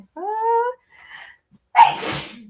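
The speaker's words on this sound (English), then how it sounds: "You sneeze once, you sneeze again." A single sharp sneeze close by, preceded by a short nasal wheeze and a quick inhale, with no talking.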